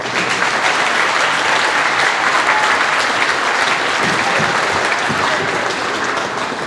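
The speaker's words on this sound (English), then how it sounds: "let's give AJ a round of applause as well" Loud, sustained audience applause at a school district concert, a thick even roar of many hands clapping with no pauses.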